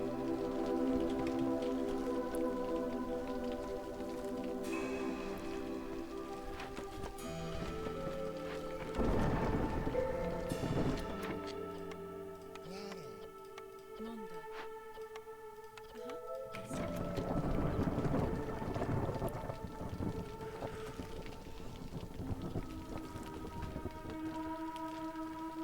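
Rain pours and thunder rolls in long, loud waves during a storm in the Against the Storm video game, with sustained tonal music running underneath and no one talking.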